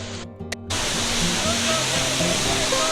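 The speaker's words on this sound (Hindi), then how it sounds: "और ये है वाटरफॉल" A waterfall in Kumrat Valley, Pakistan, roaring as a steady, loud broadband rush that fills the scene, with someone talking briefly near the start before the water dominates.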